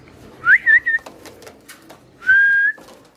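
A young Spanish pouter pigeon gives two short whistling coos, the first rising and wavering, the second a steady drawn-out note, close and clear against quiet surroundings.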